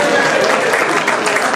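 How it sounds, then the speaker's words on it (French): Applause from an audience at a forum event in Belgium, dense and steady for a moment, with faint speech mixed in. "Si je parle bien anglais, vous applaudissez."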